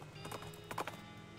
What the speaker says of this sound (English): You motherfucking stupid crazy horse